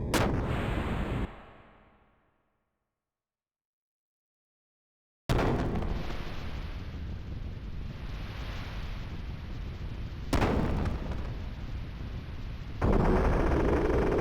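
Gunfire in the Xenogears video game comes as a loud blast that cuts to silence, then a heavy sustained roar of shooting with two further sharp bursts layered on top.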